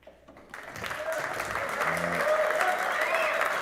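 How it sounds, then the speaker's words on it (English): Applause from a crowd at a 9-ball pool match at the International Open, swelling after a quiet start into sustained, dense clapping, with a commentator's voice faintly underneath. "the crowd's showing him a lot of support, a lot of applause"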